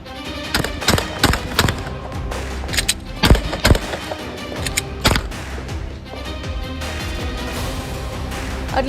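A burst of at least nine sharp gunshots rings out at a cafe in Surrey, irregular cracks spaced unevenly across several seconds over a steady background hum, with no voices.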